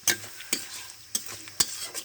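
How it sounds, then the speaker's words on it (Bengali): Crab being stirred and fried with spices in a pan: four distinct scraping stir strokes roughly every half second over a steady close sizzle, with no talking. "কাঁকড়া কষানো হয়ে গেছে"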